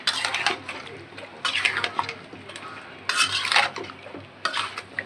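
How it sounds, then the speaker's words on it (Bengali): Papaya and hilsa fish curry is stir-fried in a pot. A utensil scrapes and clatters in several distinct bursts against a low background of frying. "আমাদের পেঁপেটা খুব সুন্দর করে কষাইতেছি"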